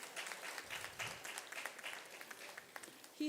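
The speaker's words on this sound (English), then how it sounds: "Big round of applause, please." Audience applause at an Indian book launch fills the room, a dense, steady patter of many hands clapping at moderate volume with no talk over it.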